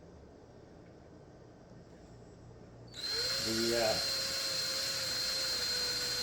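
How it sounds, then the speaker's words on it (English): A power drill fitted with a 5/32 drill bit pre-drills a pilot hole in wood for a boot rack. It whines up loudly about halfway through with a rising pitch, then holds a steady high whir to the end after a quiet opening. "I'm going to use a 5/32 drill bit to kind of pre-drill"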